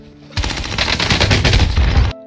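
Rapid automatic gunfire in the Warzone video game, a dense loud burst of shots lasting nearly two seconds, close and alone without talk.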